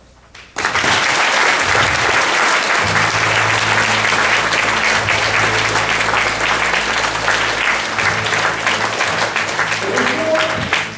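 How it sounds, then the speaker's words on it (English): Loud, sustained applause from an audience at a comedy boxing-ring show fills the whole stretch after a brief quiet start, with a low hum and faint voices underneath. "why don't we give them a huge hand of applause"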